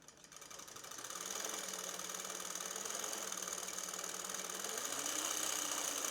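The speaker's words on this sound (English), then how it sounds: "when we hit the pedal, we're able to spin that pulley and we start to wind the bobbin" A sewing machine winds a bobbin through a pedal-driven pulley: a steady, close mechanical whir that starts up within the first second and runs on evenly with a faint rhythmic rattle.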